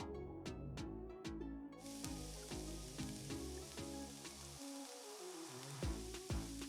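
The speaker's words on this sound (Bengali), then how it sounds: "এবার এইভাবেই আমি কিছুক্ষণ ভেজে নেব।" French fries cook in hot oil with a faint, continuous sizzling hiss and scattered small crackles and pops that run throughout.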